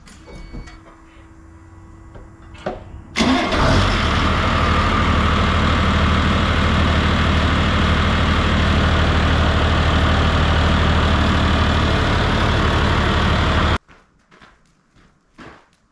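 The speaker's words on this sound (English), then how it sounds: "Genesis engine, runs like a Swiss watch" A Ford 8160 tractor with a Genesis engine and power shift transmission starts abruptly after a few quiet seconds of faint clicks, then runs at a loud, steady, close diesel idle for about ten seconds before cutting off to near silence.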